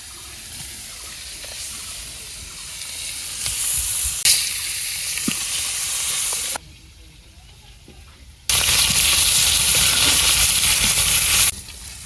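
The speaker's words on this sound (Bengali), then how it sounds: "ইলিশ মাছ ভাজা বড়ই হয়ে গেছে।" Hilsa fish frying in oil in a village kitchen: steady sizzling and hissing with occasional clicks and knocks, swelling into louder bursts of crackling spatter, with brief quieter stretches between them.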